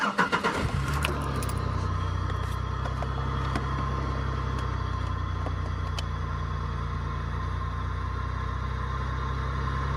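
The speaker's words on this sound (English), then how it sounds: "so I guess we'll start the car" A car engine cranks and catches at the start, a brief loud turnover burst that settles into a steady low idle hum continuing to the end, with no talk.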